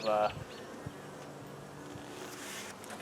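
Bees buzz in a soft, continuous hum close by, with a brief louder burst at the start and faint handling noises.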